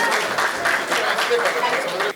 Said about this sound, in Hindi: एक बार दोनों हाथ उठाकर भरपूर तालियां दे दीजिए भाई शंभू शिखर के लिए।